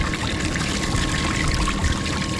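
Water sprayed into a Gold Cube sluice on a Nome beach, soaking the riffles: a steady, close hiss of pouring and splashing water running unbroken throughout.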